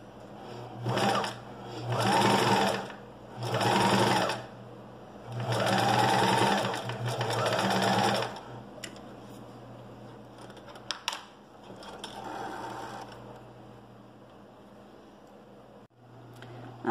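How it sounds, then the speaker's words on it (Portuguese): Sewing machine stitching a straight hem seam on fabric, running in several bursts of about one to two seconds with short pauses, then fainter, quieter stretches of stitching near the end. "Agora a gente vai passar uma costura reta."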